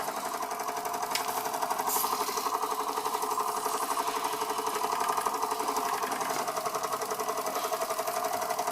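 A Bing model steam engine runs on live steam with a fast, steady, even chugging beat that continues unbroken, moderately quiet and mechanical, with no voices.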